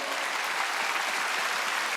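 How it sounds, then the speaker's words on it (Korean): A church congregation at a Sunday worship service claps hard in a fast, dense, continuous burst that stays loud and even for the whole stretch, with no voices rising above it. "박수 세게 치라고요"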